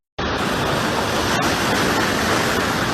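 Water rushes in with a sudden loud, steady roar during Navy SEAL training, a constant broadband wash that starts abruptly and stays dense and close.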